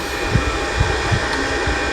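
The hot-air blower of a BS-999 rework station runs with a steady, loud airy roar, broken by faint low thumps recurring at irregular intervals, with no talking.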